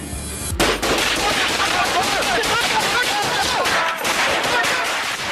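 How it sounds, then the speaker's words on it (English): A rifle firing rapidly until its 30-round magazine is empty, a dense, loud, continuous burst of shots, close and harsh, echoing indoors after a sudden start. "Real unloads a 30-round magazine in a matter of seconds, striking Deputy Parrish multiple times."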